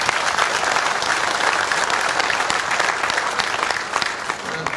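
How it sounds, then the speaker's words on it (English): Audience applause fills a room at a Wisconsin farm technology event, steady dense clapping holding at an even, loud level throughout without any voices over it. "Let's give her a round of applause."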